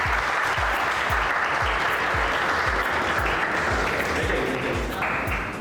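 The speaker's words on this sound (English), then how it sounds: "Give him a clap." Audience applause fills a public screening of a short film, a dense, steady wash of many hands clapping at close range, with rhythmic low thumps running under it throughout.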